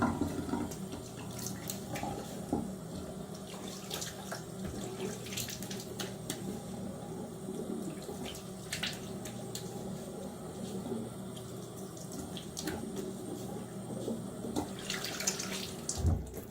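A bathroom tap runs steadily for a shave rinse, a continuous splashing hiss of water into the sink with small shifts as hands and razor pass under the stream, with no talking.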